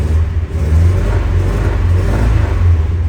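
A 1970 Volkswagen Karmann Ghia engine revs in a steady, close, low rumble that swells gently at intervals over three seconds, with no talk.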